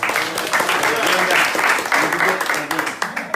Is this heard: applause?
yes